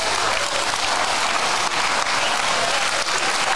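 Dense, steady applause from a large audience at a charity benefit evening, loud and continuous throughout with no talk over it.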